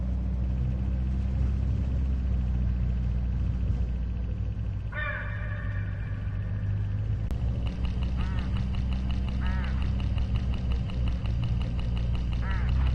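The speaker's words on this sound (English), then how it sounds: "hooded crows all along this road" Hooded crows along a rural road in the video game Hitch Hiker, giving several harsh, repeated caws in short bursts over a constant low engine hum from a moving vehicle.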